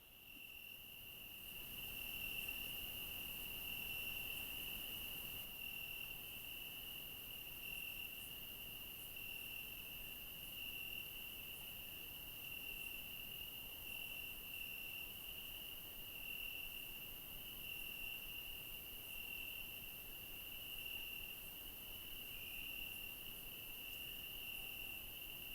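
A dense, continuous chorus of crickets chirping at night, steady and unbroken throughout, with a faint low background hiss and no voices.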